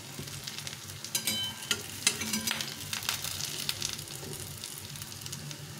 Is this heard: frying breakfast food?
yes